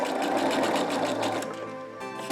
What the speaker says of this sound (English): I can just do a little bit of reverse stitching